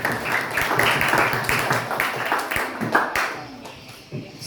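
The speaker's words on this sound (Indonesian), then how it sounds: "Berikan tepuk tangan yang meriah dulu untuk kita semua." Applause and hand clapping ring out at a Qur'an comprehension competition final in a madrasah hall, a burst of clapping that fades out over a few seconds while an announcer talks.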